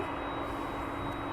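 Aircraft taxiing at East Midlands Airport at night: a continuous broad jet engine rumble and whine, distant but steady, with a faint high tone, and no voices.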